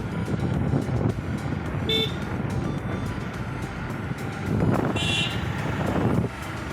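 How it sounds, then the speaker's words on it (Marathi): A vehicle passes on a road near the Manudevi temple in the Satpuda hills, sounding two short honks over steady engine rumble and wind noise. "गाडी मग गाडी येते"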